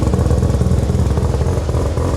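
A 1600-horsepower Toyota Supra idles loudly nearby, a rough, rapid, lumpy engine pulse with mechanical clatter, steady throughout.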